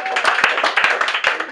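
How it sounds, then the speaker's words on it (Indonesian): A short burst of close, uneven hand clapping from a small crowd at a Tamiya mini 4WD fun race, with voices talking over it. "Dah tepuklah untuk dia."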